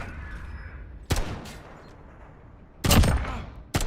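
Video game gunfire: two bursts of loud shots, one brief at about one second and a heavier, longer volley near three seconds, with a final sharp crack at the end, over low background noise and no talk.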